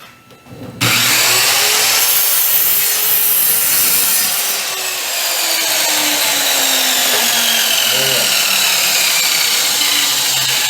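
A saw cuts through an oak board, starting abruptly after a quiet moment and then grinding loud and continuous with a rasping, slightly shifting pitch.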